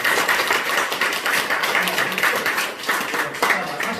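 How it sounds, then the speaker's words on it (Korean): A church congregation at Sunday worship gives welcoming applause for newly baptized members: a steady crowd of hands clapping, moderately loud, with a faint voice in the background. "이 시간 우리 다 같이 환영의 박수"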